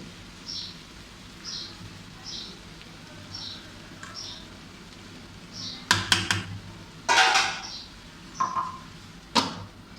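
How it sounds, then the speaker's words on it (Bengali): A pan of fried potatoes is lifted off a stove, with several sharp metallic clanks and clatters close by in the second half after a quieter stretch of faint chirps. "আমি আলু ভাজিটি এখন চুলার থেকে নামিয়ে নেব"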